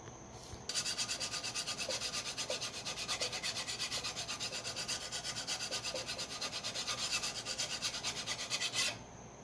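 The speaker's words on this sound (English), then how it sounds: "then I go to the hone, the rough side. And then after the rough side, I move to the fine side." A blade is sharpened on a hone by hand, producing steady, rhythmic rasping strokes, close and even, about a dozen back-and-forth passes in sequence with no talking.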